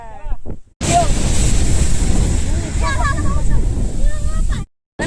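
Ocean waves on the Mangalore coast, a loud continuous roar of surf mixed with heavy wind buffeting on the microphone, with voices talking over it before a brief cut.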